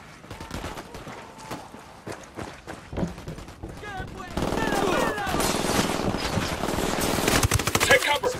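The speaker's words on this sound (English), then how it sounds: "Opening fire." Video game gunfire from Tom Clancy's Ghost Recon Wildlands on Xbox One: scattered sharp shots at first, then dense rapid automatic bursts that grow louder and fill the second half.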